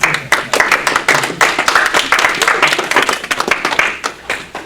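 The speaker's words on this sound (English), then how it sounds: "So if you can all give them a round of applause" A small audience claps after a class on emotional intelligence, individual hand claps clearly separable in an uneven, bursting rhythm that swells and dips before thinning out near the end.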